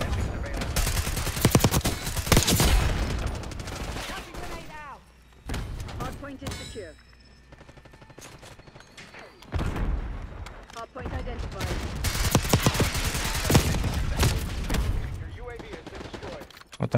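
Gunfight in the video game Black Ops 6, with dense bursts of rapid automatic gunfire and sharp shots that come and go in loud waves, and a short quieter stretch in the middle.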